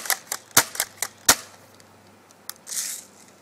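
Airsoft shotgun fired several times, sharp snapping cracks in an irregular cluster, with a few fainter clicks and a soft hiss toward the end.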